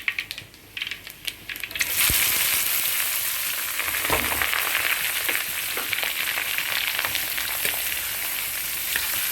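Green chillies sizzle in hot oil in a pan, a loud continuous frying hiss that bursts in after a few light clatters and crackles steadily with small pops and stirring scrapes.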